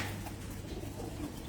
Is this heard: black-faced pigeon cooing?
yes